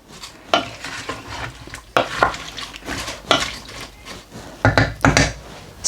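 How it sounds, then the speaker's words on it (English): A spoon scraping and clanking through lamb paya curry with boiled water in a metal pot, loud close stirring strokes coming in irregular bursts over a faint simmer. "we are just going to give it a stir"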